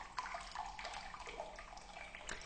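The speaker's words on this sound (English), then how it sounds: "using a strainer, pour the juice off the top of it" Purple cabbage juice trickles through a strainer into a glass, a soft, steady watery splashing and dripping that stays faint and close for the whole stretch, with no talking.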